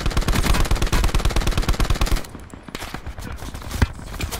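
Video game gunfire: rapid, loud automatic bursts hammer out in a steady rhythm for about two seconds, then give way to scattered, fainter shots and one sharp crack near the end.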